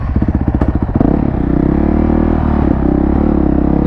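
A Yamaha Raptor quad's engine with a rough clutch, loud and close, sputtering in pulses at first and then rising into a sustained rev.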